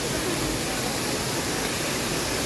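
A waterfall in the countryside gives off a steady, loud, full rushing roar of falling water, unbroken from start to end.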